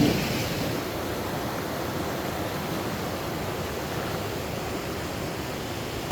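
Steady broadband rush of a river flowing through Hanu village in the Aryan Valley, a continuous even wash of water with no pauses, heard alone without voices.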